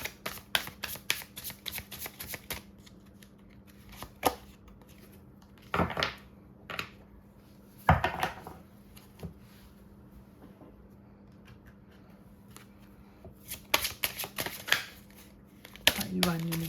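Tarot cards are shuffled in repeated riffling bursts, with pauses and soft handling knocks between them, close up under a low steady hum and occasional talk.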